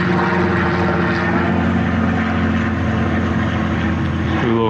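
An MJX Bugs B7 budget GPS camera drone flying low over the ground gives off a steady, loud propeller whine that holds nearly constant, then shifts pitch slightly at the end. No one talks over it.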